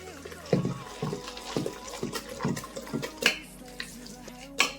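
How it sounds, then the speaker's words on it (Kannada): Vegetable dosa batter with cabbage, ginger and coriander is stirred in a bowl, giving a series of wet, thick squelching and scraping strokes at a steady pace, close and moderately loud. "ಇವಾಗ ಚೆನ್ನಾಗಿ ಮಿಕ್ಸ್ ಮಾಡ್ಕೊಳ್ಳೋಣ ನೀಟಾಗೆ."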